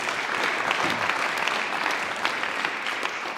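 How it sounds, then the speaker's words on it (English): Applause from an audience at a regional volunteer awards ceremony, a steady dense clapping that fills the whole stretch, loud and close without any talk. "So let's have another round of applause, please."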